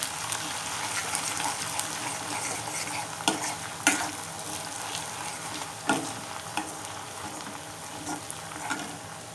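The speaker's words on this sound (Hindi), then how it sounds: "हल्का सा फ्राई करेंगे।" Ginger garlic paste sizzles steadily in a hot pan, with occasional scraping stirs and clinks breaking through the constant frying hiss.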